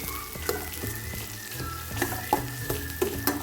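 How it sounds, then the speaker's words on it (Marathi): Chopped onion frying in oil with cumin and mustard seeds, a continuous close crackling sizzle with occasional stirring taps, heard under background music. "इथे कांदा आपण लाल होईपर्यंत भाजून घ्यायचा"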